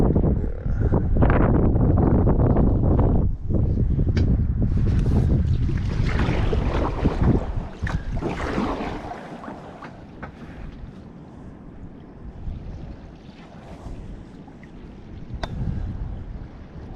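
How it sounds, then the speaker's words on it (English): Rushing water and wind buffet a kayak heading into river rapids, loud and turbulent at first with splashes and gusts, then easing to a quieter wash of flowing water. "Here comes the rapids."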